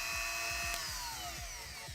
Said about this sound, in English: We might just drill it at that speed.